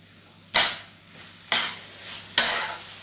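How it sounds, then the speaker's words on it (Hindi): Vegetables for street-style veg chowmein being stirred and tossed in a hot pan, three distinct scraping, sizzling strokes spaced about a second apart, close and fairly loud over a low background hum. "अभी हम सारे सब्जियों को अच्छे से मिक्स कर लेंगे"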